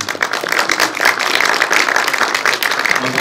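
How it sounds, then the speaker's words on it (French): Audience clapping at a film screening Q&A in a Paris cinema, a steady dense patter of many hands filling the room, fairly close and continuous without voices. "Moi j'applaudis."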